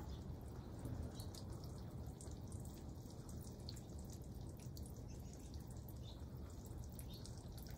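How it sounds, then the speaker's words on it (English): Water drips and trickles from a freshly and thoroughly watered bald cypress tree planting into a tray below, a faint, steady patter of small drops close by with no voices. "I'm giving it a nice thorough water."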